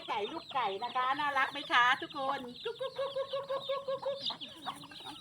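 Native backyard chickens clucking in the evening, a busy, close chorus of overlapping clucks and short squawks that keeps going throughout.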